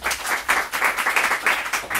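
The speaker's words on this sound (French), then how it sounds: "On peut l'applaudir." A small audience applauds a speaker at an Upheros event in Massiac, giving steady, close hand clapping that continues throughout.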